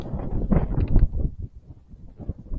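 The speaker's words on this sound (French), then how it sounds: "ouais, ça souffle, hein, il y a vachement de vent" Strong countryside wind during a ride on an Angwatt CS1 buffets the microphone in gusty, low rumbling bursts that rise and fall unevenly.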